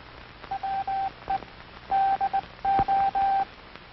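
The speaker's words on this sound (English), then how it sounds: "Listen to the sounds of the key. These sounds are transmitted in International Morse code." A hand telegraph key sends International Morse code as a clean steady tone, short dits and longer dahs in three spaced groups, clear and close over faint background hiss.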